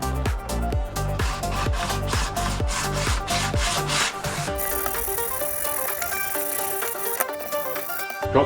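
Repeated rasping strokes on a part of a homemade hydrofoil catamaran, a rapid rubbing rhythm for a few seconds, then giving way to background music without talking.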